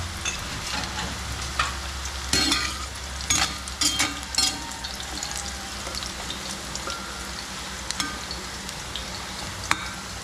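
Sliced sweet potato (kamote) sizzles steadily in hot oil in a pan, with a few louder crackles and spatters breaking through the low, constant frying hiss.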